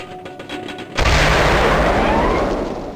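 A cluster bomb explodes in Gunman Chronicles: a single loud, close blast bursts out after a second of quiet clicking. It then rumbles and decays broadly without breaking off, and no one speaks.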